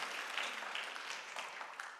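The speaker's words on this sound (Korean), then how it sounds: "하나님께 영광 올리는 심정으로 박수 한번 올려드리겠습니다" A church congregation applauds during a Sunday worship service, a steady wash of many hands clapping, fairly faint and even throughout with no voices standing out.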